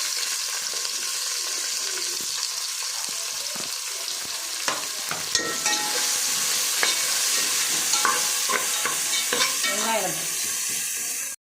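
Onions sautéing in a pan for biryani, a continuous close sizzle broken by repeated scraping and clacking stirs of a spoon, with no talking.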